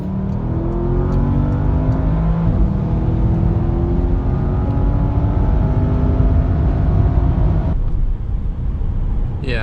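A Porsche Panamera Turbo S E-Hybrid accelerating hard in Sport Plus mode, its engine note climbing steadily through the gears, loud and continuous from the cabin with a brief shift dip near the end.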